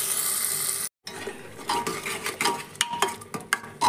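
Tomatoes go into fried onions for rajma. A sizzle cuts off briefly, then a spoon scrapes and clinks against the pan as the mix is stirred, with irregular knocks over a low frying hiss.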